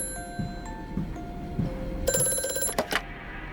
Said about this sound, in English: Entering an office-like room, the phone rings with a cryptic message.